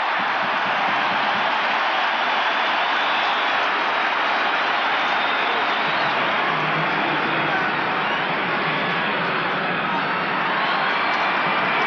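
Sellout crowd at the Kingdom indoor football stadium during a 1983 NFL wildcard playoff game applauds and cheers in a thick, continuous roar that holds steady and loud for the whole stretch.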